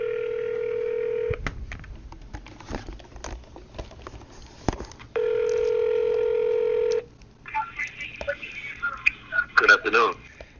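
Telephone keypad tones and a ringing line as a call is placed, with two long steady tone bursts separated by clicks and faint handling noise, close and clear with no talk.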